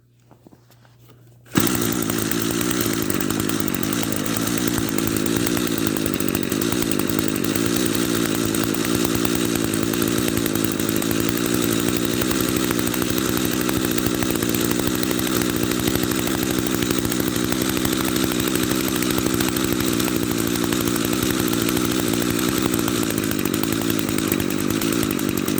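A small two-stroke Echo string trimmer engine drones steadily and loudly at a constant speed while the carburetor idle is adjusted, starting abruptly after a brief quiet moment and running continuously without pause.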